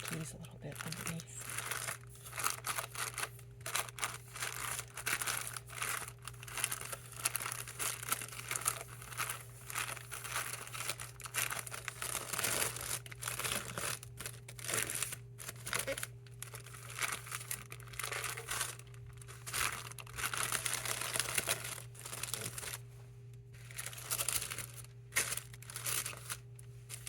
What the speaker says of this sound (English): You can hear the keys a little bit underneath.